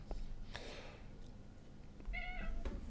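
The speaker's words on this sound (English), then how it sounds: "That's my cat, Clark." A pet cat gives a couple of faint, short meows, the clearest one near the end, in a quiet room.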